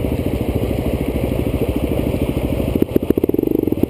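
An off-road motorcycle engine chugs in a fast, even pulse near the listener, then the throttle opens toward the end and the beats sharpen and grow louder in a brief rev.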